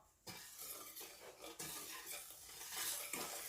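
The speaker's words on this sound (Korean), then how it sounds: "생 막걸리 한 병, 그리고 설탕 2 컵, 소금 한 티스푼을 넣고 저어주세요." Makgeolli being stirred with sugar and salt in a bowl, giving a continuous wet swishing with faint utensil scrapes against the container, fairly quiet and steady.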